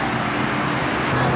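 A Mitsubishi L200 Savannah pickup drives past on a city street in Curitiba, a steady loud road and engine rush in amid surrounding traffic.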